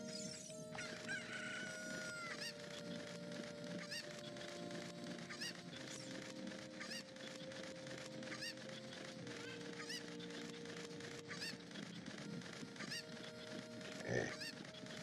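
Cuckoo chickens in the Zelda Ocarina of Time video game cluck and squawk continuously over looping game music, with repeated short bird calls throughout.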